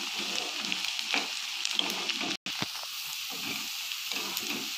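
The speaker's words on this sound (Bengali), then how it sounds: "পেঁয়াজটা হালকা বাদামি হওয়া পর্যন্ত ভালো করে ভেজে নিতে হবে।" Onions fry in a pan until light brown, a steady close sizzle and crackle with a brief dropout partway through.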